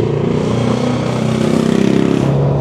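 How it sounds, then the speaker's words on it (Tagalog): A loud, close Honda 320 engine running and revving, its pitch rising and settling with a steady throbbing rhythm. "Ang makina nga pala itong Honda natin kababs."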